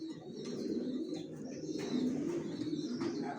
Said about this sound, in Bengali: কোয়ালিটি সম্পন্ন কবুতর পালি